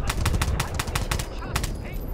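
Rapid gunfire from the video game Battlefield Bad Company 2, a dense burst of repeated sharp shots in the foreground with brief gaps, layered over game background noise.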